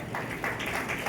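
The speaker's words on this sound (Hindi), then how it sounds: "इनके लिए जोरदार तालियां बजाएं।" Clapping from a group at a children's church gathering, answering a call for loud applause, a brief, fairly even patter of hands.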